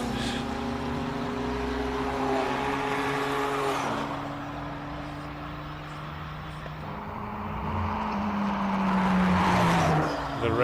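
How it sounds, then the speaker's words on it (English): A race car at a hillclimb qualifying session, its engine misfiring with exhaust pops and bangs, heard from a distance as it revs and passes, the engine note rising and falling over several seconds. "it's misfiring all over the place"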